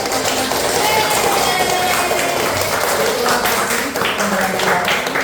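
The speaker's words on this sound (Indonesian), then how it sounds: "Oke, tepuk tangan dulu buat kita." A school class claps steadily and loudly in a dense patter of applause, with voices mixed in throughout.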